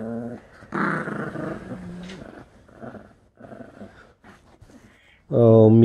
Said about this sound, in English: He's a good Lhasa Apso show doggy.